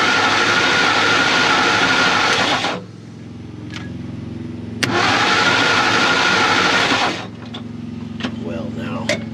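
A 1959 Ford F250 4x4 engine with a failing ignition cranks in two long loud bursts, each a steady churning whir that cuts off abruptly, with quieter idle-like rumble and someone talking between attempts.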